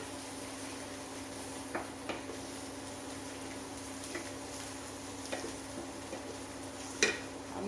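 Ground spice masala with turmeric and ground fenugreek fries in a pan while being stirred, a soft steady sizzle with occasional light taps and scrapes of a spoon, quiet and without talk.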